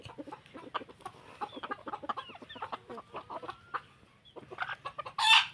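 White-eared Thai gamecock chickens kept at Phu Phan, Sakon Nakhon, cluck in quick repeated bursts close by, ending with a sharp louder crow-like squawk.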